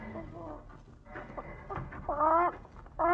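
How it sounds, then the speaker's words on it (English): A chicken clucks in a 1953 radio crime drama, a run of harmonic clucks and squawks growing louder toward the end, close and clear with a voice in the scene. "That's a chicken."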